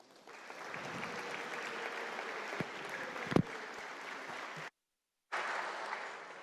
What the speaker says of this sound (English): let's all give Avery a big round of applause and thank him for his work and service here today